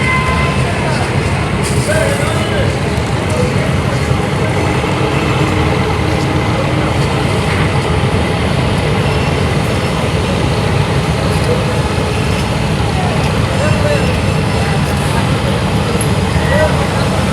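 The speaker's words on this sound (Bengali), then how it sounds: "এই মুহূর্তে দেখতে পাচ্ছেন ফতুল্লা থেকে ছেড়ে যাচ্ছে এমভি মানিক 11" The engine of the passenger launch MV Manik 11 as it pulls away from Fatullah, a loud, steady, rumbling drone that continues unbroken, with voices in the background.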